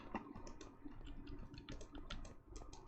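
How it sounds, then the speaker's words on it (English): Rapid, frantic mouse clicking while playing Monumenta, a stream of sharp close clicks with a few brief pauses, loud and steady with no talking. "Frantic clicking."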